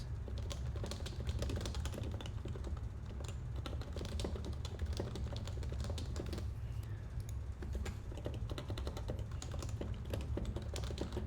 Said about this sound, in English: now I'm typing on a different keyboard